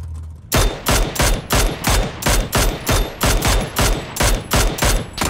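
Rapid bursts of close, loud gunfire in a shooter game fire in a steady rhythm of roughly a dozen sharp cracks, starting abruptly after a brief hush and continuing without pause.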